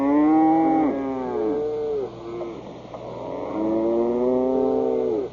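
A Danish cow moos in long, drawn-out calls, three sustained lowing notes that rise and fall, loud and close, with no talk over them.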